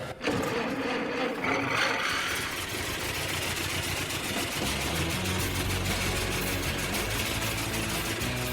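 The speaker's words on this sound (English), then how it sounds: "It's a good thing to hear the engine running" An old Ford Model T engine runs steadily and loudly throughout, a continuous mechanical chug with a rattling, idling texture and no voices.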